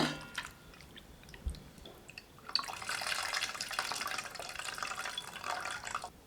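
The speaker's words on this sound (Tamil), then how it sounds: "எக்ஸ்ட்ரா தண்ணி விட்டு புளியை கரைச்சி எடுத்துக்கலாங்க" After a few faint clinks and small splashes, water pours steadily into a container of tamarind for dissolving, a close, continuous gurgling stream running to the end.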